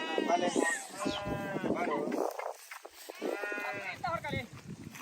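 People talk close by while sheep bleat among them, a few wavering calls overlapping the voices.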